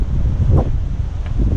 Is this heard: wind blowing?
yes